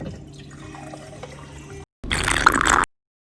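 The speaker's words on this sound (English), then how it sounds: "So we're gonna drink some water." After a quiet stretch of faint background hum, water pours briefly and loudly into a container for about a second, then stops.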